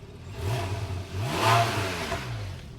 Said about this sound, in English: Now let's start it up. This is the standard cold start,